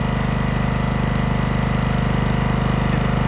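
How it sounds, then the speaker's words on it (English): A hookah diving rig's compressor engine runs steadily at idle, a loud, even, close-up mechanical drone with a rapid regular pulse and no speech. "It'll build up to 150 pounds of pressure and then kick out,"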